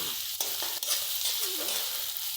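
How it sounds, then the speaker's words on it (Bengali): Hot oil sizzles and spatters steadily in a pan while meat masala is stirred, with a few sharp scraping knocks of the spoon against the pan. "আর এই তেল ঢেলে দিল চড়বড় চড়বড় চড়বড় চড়বড় করে আওয়াজ হচ্ছে, ভালো করে নেড়ে নিতে হচ্ছে"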